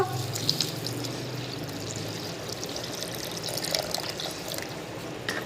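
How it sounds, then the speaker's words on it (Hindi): Water pours steadily into a container, a continuous splashing gurgle that stays even throughout. "इसमें हम पानी डाल देंगे इस तरह से।"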